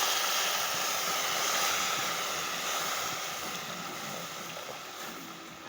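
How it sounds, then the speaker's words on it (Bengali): Water poured into a frying pan of fish curry, a steady broad rushing hiss that stays fairly loud throughout and eases slightly toward the end, with no voices. "এবার দিয়ে দেবো আমি জলটা।"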